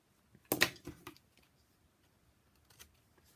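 Scissors snip the corners off paper for a homemade coin envelope: a sharp close double cut, a softer follow-up snip, then a faint later one, in an otherwise quiet room.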